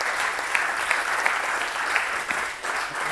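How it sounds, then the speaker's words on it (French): Conference attendees at IMT applaud the speakers after a sport, data and innovation talk, with sustained, even clapping filling the room and a few sharper claps standing out. "Et puis je vous propose de les applaudir."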